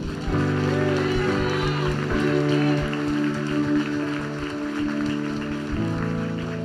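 A church congregation applauds at a baptism service, sustained clapping at steady loudness with a voice and music running underneath throughout.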